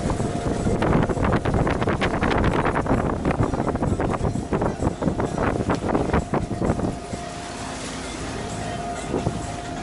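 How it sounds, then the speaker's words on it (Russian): Strong storm wind buffeting the microphone on a boat at sea, with rough, gusting roars and thumps that ease off toward the end, loud and close. "Ветер усилился сильно очень."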